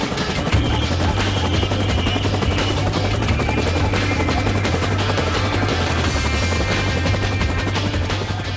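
RAF rescue helicopter arriving at a rendezvous on Dartmoor, giving a loud, continuous rotor thump with a deep steady throb that fills the whole stretch without pause.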